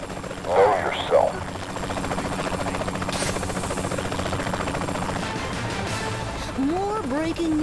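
Steady helicopter rotor drone in the video game Saints Row: The Third, a continuous loud hum through the whole stretch with brief bursts of game effects and voices over it.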